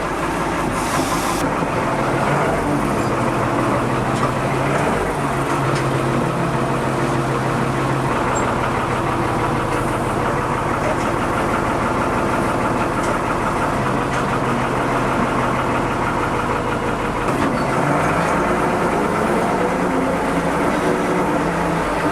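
A backhoe loader's diesel engine rumbles loudly and continuously while it drives along a road after an oil change, a dense, steady drone with no talking.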